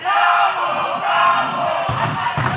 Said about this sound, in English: I'm not sure how many times I've heard a gobble gobble chant in professional wrestling